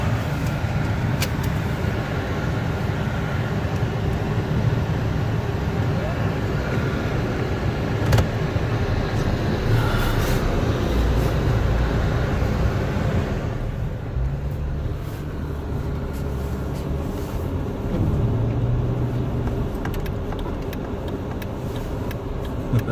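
A Jeep Wrangler climbs a hill through deep snow in a Minnesota blizzard, heard from inside the cab as a steady, loud engine drone and road rumble that eases slightly partway through, with no talking.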